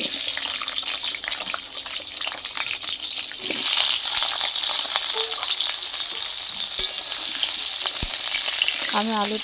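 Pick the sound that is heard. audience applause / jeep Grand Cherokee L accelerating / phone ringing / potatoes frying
potatoes frying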